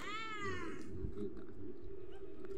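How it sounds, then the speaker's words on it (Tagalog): A small kitten meows loudly and close, one long rising-falling cry at the start followed by quieter scattered sounds over a steady low background hum. "ang ingay naman ng batang pusa na ito"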